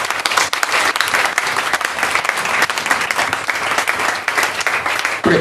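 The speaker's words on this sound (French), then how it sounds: "acclamons Jésus" A church congregation applauds together, loud sustained clapping from many hands filling the room, close and dense without a break for several seconds.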